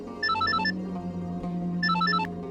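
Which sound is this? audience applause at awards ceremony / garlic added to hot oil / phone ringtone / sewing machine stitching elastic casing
phone ringtone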